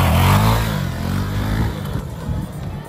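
A Honda Nova Sahara 300 motorcycle being ridden close by, its engine droning with a steady mid-pitched hum that eases off slightly partway through, with no voices over it.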